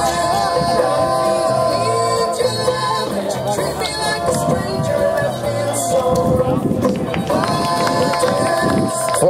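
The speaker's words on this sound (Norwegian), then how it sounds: "For fortjent applaus her." A crowd applauds and cheers for a runner finishing the Sørfjorden half marathon in Norway, sustained clapping and shouts mixed with music and a public-address announcer speaking over it.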